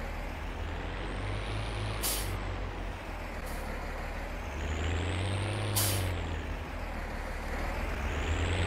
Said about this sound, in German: Auch mein Traktor.